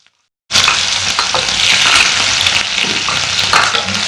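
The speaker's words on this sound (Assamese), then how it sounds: "মেথি গুটিকেইটা দিয়াৰ পিছতে মই পিঁয়াজখিনি দি দিছোঁ।" Onions and fenugreek seeds hit hot oil already used for frying fish, for an Assamese-style fish curry with cauliflower. After a brief silence a loud, sudden sizzle bursts in and carries on as a constant close crackle.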